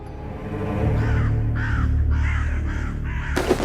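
A crow caws four times in a steady series, fairly clear and close, over a constant low background hum, ending with a short sharp noise.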